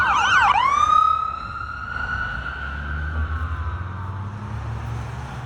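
Wailing ambulance sirens sweep up and down, then a long steady tone fades as the vehicles pass by, with traffic rumble underneath.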